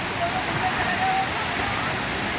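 Continuous rushing of the Ananthagiri Hills waterfall near Vikarabad, loud and even throughout, with a person speaking faintly beneath the torrent.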